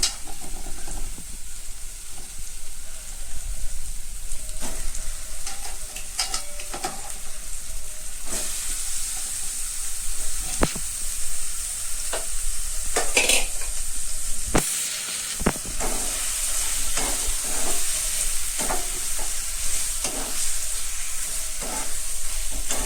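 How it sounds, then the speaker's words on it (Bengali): Meat sizzles loudly in a hot wok, with scattered scraping and clanking of a utensil stirring it; steady hiss throughout, no talking. "মাংসগুলো ভালো করে নাড়াচাড়া করে নিয়ে কড়াই দিয়ে যাচ্ছে।"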